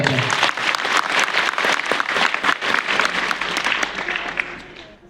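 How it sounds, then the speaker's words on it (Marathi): Enthusiastic applause from a gathering on a religious foot pilgrimage, many hands clapping loudly and continuously before fading out at the end. "सर्वांनी जोरदार टाळ्या वाजवायच्या."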